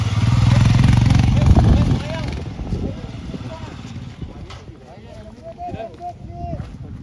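A motorcycle on a rough, challenging mountain road near Changla Pass, its engine loud and rumbling at first, then dropping to a lower churn with clattering over the uneven surface while someone talks over it.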